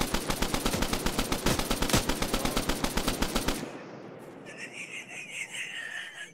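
Rapid automatic gunfire in a military video game, a dense burst of evenly spaced loud shots lasting over three seconds, then quieter ambient noise with distant tonal sounds.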